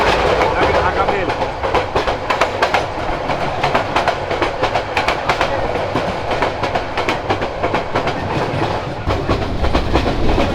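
Paharika Express passenger train running on rails through the hill country near Chattogram, with a steady loud rumble and rapid clickety-clack of wheels on track joints throughout.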